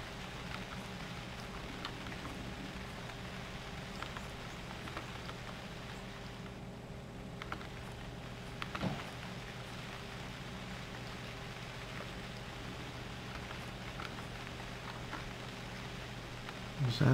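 Steady rain falls in the video game UnReal World, a constant soft hiss spread evenly through the scene, with faint low ambient hum beneath and no talking.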